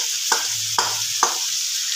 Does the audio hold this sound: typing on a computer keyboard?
no